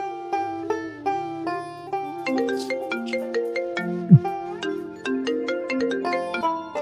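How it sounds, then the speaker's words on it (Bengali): A melodic phone ringtone plays clearly and repeatedly, a bright chiming tune of rising and falling notes in a steady rhythm, with a single brief thump partway through and no talking over it. "একটা ফোন দিই।"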